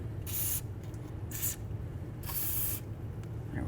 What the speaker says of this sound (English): Let's go ahead and spray down this area with a little bit of penetrant.